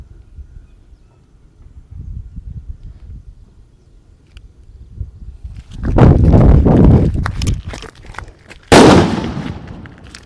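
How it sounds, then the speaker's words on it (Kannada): An atom bomb firecracker set off under a vessel bursts with a loud, sharp blast after quieter low rumbling, followed by a second abrupt bang and fading crackle, close and heard alone. "ನಾನು ಇವಾಗ ಹಚ್ತಾ ಇದ್ದೀನಿ ಆಟಮ್ ಬಾಂಬು ನೋಡಿ check it off dangerous bomb"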